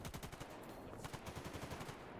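Video game gunfire rattles in rapid, continuous machine-gun bursts, dense and evenly paced, steady at a moderate level with no talking.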